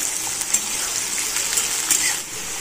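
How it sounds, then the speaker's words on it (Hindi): Boiled potatoes and finely chopped cluster beans hitting a spoonful of hot oil in a kadai, giving a steady close sizzle and frying hiss throughout with a few small clinks and spatters, no talking. "यहाँ पर हमने कढ़ाई में एक चम्मच तेल लिए, इसमें हम बॉइल किए हुए आलू और गवार की फली डाल देते हैं।"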